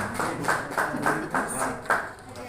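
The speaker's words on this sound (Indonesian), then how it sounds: "beri tepuk tangan untuk pengurus yang baru Bapak Ibu" Hands clap for the newly installed PGRI board members in an Indonesian school hall, a few sharp, evenly spaced claps that sound close and sparse rather than a full crowd.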